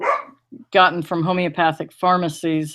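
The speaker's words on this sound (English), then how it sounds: "I apologize for my dog barking in the background." A dog barks in the background, a few short bursts at moderate distance, mixed with and partly under a man's steady speech.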